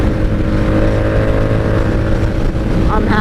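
A 1997 Honda Magna VF750C cruises on the highway with a steady, loud engine drone mixed with rushing wind, holding an even pitch from the rider's position.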